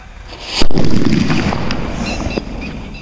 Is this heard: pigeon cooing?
no